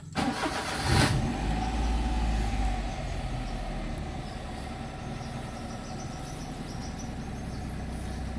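A Perodua Viva car with an engine warning light and unstable revs cranks briefly, catches and settles into a steady low idle at about 1000 rpm, close and continuous, with faint crickets behind.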